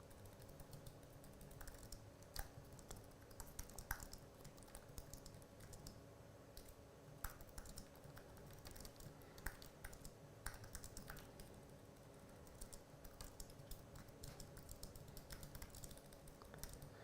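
Rapid, close typing on a computer keyboard continues for a long stretch, with irregular clacks and occasional louder key hits and no voices.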